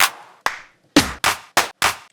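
Clap samples auditioned one by one for a house track: six sharp, bright claps with brief reverberant tails, the first two lighter and spaced apart, the last four fuller and closer together, heard alone with no talking.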